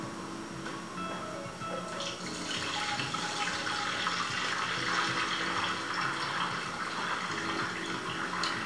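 Rinse water tipped out of a bowl of washed sushi rice, a steady splashing pour running continuously at close range with no talk over it.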